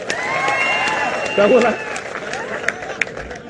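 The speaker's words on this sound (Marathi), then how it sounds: "नितेश राणेंचं टाळ्या वाजवून जरा अभिनंदन करा" A crowd at a political rally breaks into sustained clapping and cheering, a dense wash of applause that swells briefly and then thins into scattered claps while a voice speaks over the noise.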